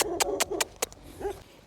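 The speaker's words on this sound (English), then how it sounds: "the dog is there barking at me" A dog at a farm gate in Zimbabwe barks in a quick run of about five sharp, fairly close barks, then gives a short whine-like yelp.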